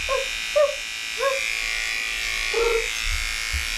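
A steady electric dog-grooming clipper buzz runs throughout, with a Cavoodle puppy's short whines and yelps breaking in several times.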